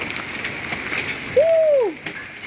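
Pea-size hail in a Spring Hill, Florida hailstorm patters in a steady, even hiss throughout, with a brief rising-and-falling whistle-like tone cutting through midway.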